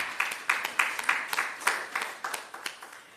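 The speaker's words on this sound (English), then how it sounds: "let us give a round of applause for that" Audience at a health research conference applauding, a few distinct claps in a loose steady rhythm, close and moderately loud, with no voices.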